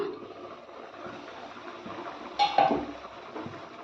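A lid comes off a pot of simmering onion kulambu with a short metallic clink and scrape midway, amid faint bubbling and soft kitchen clatter.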